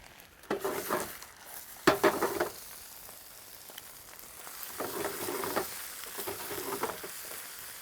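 Young baby spinach sizzles and hisses in a hot pan, with intermittent stirring scrapes and louder clattering bursts, the frying steady underneath.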